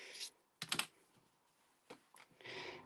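A few crisp snipping cuts of blunt scissors through cheesecloth close by, irregular and fairly quiet, with brief pauses between the strokes of the blades.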